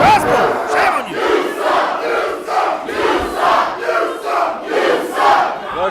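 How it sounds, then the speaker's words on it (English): An indoor wrestling event crowd chants and shouts in loud, rhythmic waves of roughly one per second, sustained throughout. "The crowd having it out with Impact Elite on the outside."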